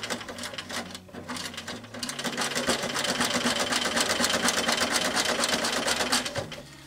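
A sewing machine back-stitches through embossed leather scraps, its needle running in a fast, steady mechanical chatter that slows and strains slightly where the needle sticks, building to a sustained run before stopping.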